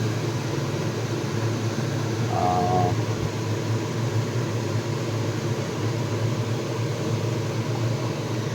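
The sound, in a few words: kitchen chimney hood running noisily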